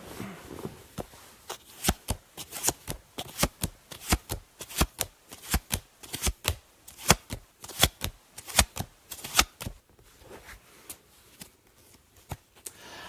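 A deck of cards is shuffled again and again, giving crisp riffling bursts in a steady rhythm. The sound is close and quiet, with no talking.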